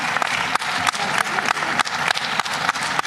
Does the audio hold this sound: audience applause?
yes